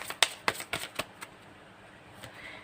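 Tarot cards being shuffled, a quick series of sharp riffling bursts that thin out toward the end, close by and otherwise quiet.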